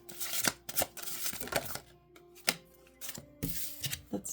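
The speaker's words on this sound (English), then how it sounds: "I'm shuffling a little off to the side." Tarot cards shuffled a little off to the side, with soft irregular riffles and taps at moderate distance and faint tonal background sounds in between.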